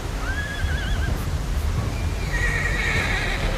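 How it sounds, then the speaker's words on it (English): A horse caught in raging floodwater whinnies twice, a high wavering neigh near the start and another toward the end, over a steady low rush of water. "A man trying to save his horses, his 2 most valuable possessions"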